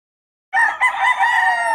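A rooster crows loudly and close by, one sustained cock-a-doodle-doo that starts abruptly and holds steady to the end.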